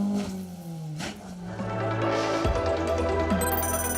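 A Citroen C2 rally car at the Mayo Stages Rally 2018 revs hard, its engine pitch rising and dropping through gear changes with a sharp surge midway, loud and continuous.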